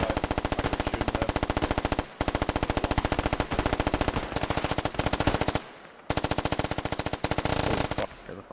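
Sustained automatic gunfire in the military shooter game Squad, with long rapid bursts broken by brief pauses, loud and close throughout.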